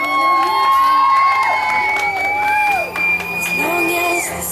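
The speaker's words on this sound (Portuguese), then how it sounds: "Uma salva de palmas," A lively crowd of family and friends at a surprise love gathering in Sapopemba, in São Paulo's east zone, cheers, whoops and shouts loudly and close by, with high excited voices over a continuous roar.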